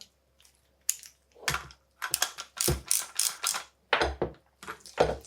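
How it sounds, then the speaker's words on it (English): The top cap of a 2022 Fox Factory 38 Grip2 mountain-bike fork is threaded in by hand, giving close bursts of clicking, ratcheting metal turns separated by short silent pauses, with no voices. "Then take your top cap. Screw it in by hand first, always by hand first."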